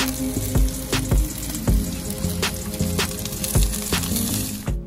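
A tuna head cooks on a grill, giving a continuous sizzle and crackle overlaid with repeated sharp knocks and pops at irregular intervals.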